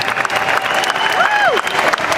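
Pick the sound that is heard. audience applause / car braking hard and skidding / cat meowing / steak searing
audience applause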